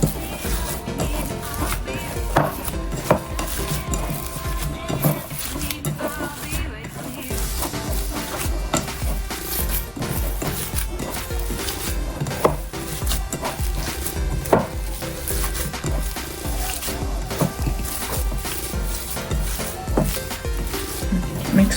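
Food ingredients and salt being mixed in a bowl, heard as continuous close clattering, scraping and squishing with a steady rhythm, mixed with background music and occasional speech.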